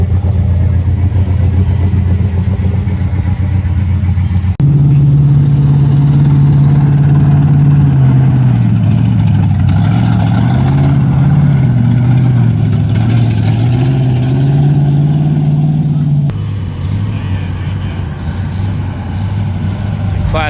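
A Jeep rig with a 6.4 Hemi V8 and Dana 60 axles idles close by at an outdoor Jeep gathering in Panama City Beach, a deep steady rumble with slight rises in pitch, loud and continuous.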